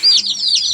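Chicks kept warm under a brooding bulb in a poultry setup give two sharp, loud, close high chirps in quick succession.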